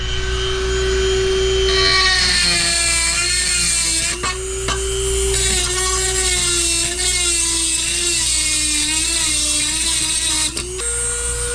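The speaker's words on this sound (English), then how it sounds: "clean that up with the Dremel a little bit" A Dremel rotary tool with a carbide bit grinds continuously at a high, steady whine, its pitch dipping briefly under load, close and loud on S550 Mustang angle-kit parts with no talk.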